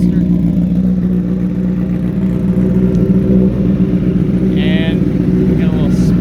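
A new motorcycle engine runs loud and steady close by, a deep, constant rumble with slight revving throughout; a voice speaks briefly over it.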